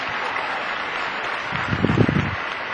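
Moderate applause from an audience continues throughout, with a brief voice calling out partway through.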